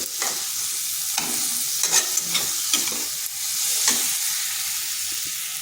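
Spice paste for a pumpkin and red lentil dish frying and being stirred in a pan, a continuous sizzle broken by repeated scraping strokes of a spoon, close and fairly loud, with no talking.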